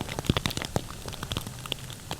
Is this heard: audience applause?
no